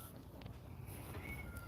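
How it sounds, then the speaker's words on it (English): A cat cries out with a couple of faint, drawn-out meows heard from a distance over a low, steady background hum. "I hear a cat crying"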